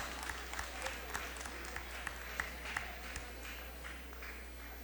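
An audience applauds steadily at a school foundation day event, scattered claps merging into a moderate, even round of applause that continues throughout.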